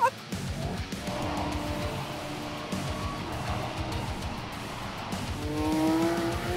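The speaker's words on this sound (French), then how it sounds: "Le son du moteur du V8 avec le superchargeur, c'est écœurant, hein?" A Dodge Charger Hellcat with a supercharged 6.2-litre V8 is driven hard on a track out of a corner, its engine roaring steadily with supercharger whine and tire squeal, the revs climbing loudly toward the end.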